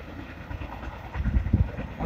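A long, fast CSX intermodal freight train rolls past, a low rumbling drone with rising clatter of wheels and cars, steady and fairly close with no talk.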